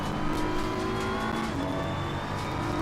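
Race car engine in Assetto Corsa Competizione at Imola, droning steadily and fairly loud throughout with faint tire noise, no talking.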